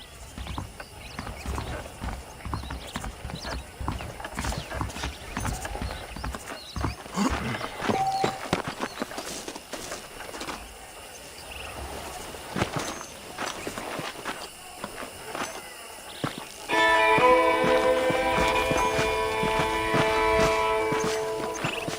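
Horse hooves clip-clop steadily in Red Dead Redemption, a close rhythmic trot on hard ground with occasional creaks, joined near the end by a sustained musical tone.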